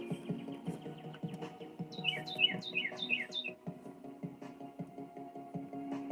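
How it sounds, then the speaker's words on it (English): Red-winged blackbird calling outdoors, a short run of four or five sharp descending notes in quick succession, moderately near, over a constant low hum. "Red wing, blackbird, red wing? I like that sound."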